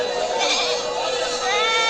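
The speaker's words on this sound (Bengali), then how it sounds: "আমার সামনে অসংখ্য ছাগল রয়েছে" Goats bleat at a busy weekly livestock market in Bangladesh, several overlapping wavering cries close by, heard amid crowd noise and talk.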